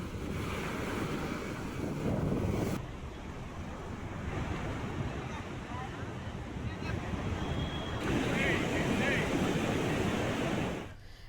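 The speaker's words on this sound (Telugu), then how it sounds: "ఆర్కే బీచ్ లో అలలు పెద్ద ఎత్తున ఎగసి పడుతున్నాయి" Heavy waves surge and crash at RK Beach in Visakhapatnam during stormy rainy weather, a continuous roaring wash of surf mixed with wind buffeting the microphone.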